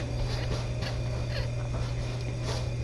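Four newborn kittens just after their mother gave birth, faint thin mewing squeaks over a constant low hum, close by and quiet, no speech.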